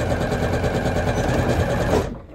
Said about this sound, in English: sewing a 1/4 inch seam allowance along the edge.